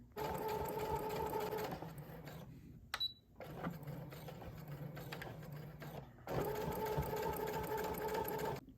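A sewing machine stitches a quilt line on a makeup pouch, running in three sustained bursts with a short pause and a light click between them, close and fairly quiet.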